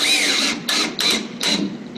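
A power drill drives drywall screws into scrap wood during an air-sealing install, heard as four close bursts of whirring motor with short gaps between them, alone and fairly loud.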